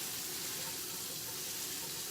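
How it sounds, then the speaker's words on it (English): Steady tap water pours into a pot of neck bones being prepared for turkey soup, a continuous close rushing hiss with no talk. "I gotta add a little more water to"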